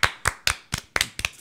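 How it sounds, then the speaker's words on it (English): Slow, deliberate hand claps, six sharp and close strikes spaced evenly about a quarter second apart, dry and isolated as if from a single person or small group on a podcast. "Let's have a round of applause for Brad Dourif, everybody."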